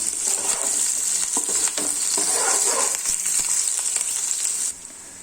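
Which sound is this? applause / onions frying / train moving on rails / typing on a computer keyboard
onions frying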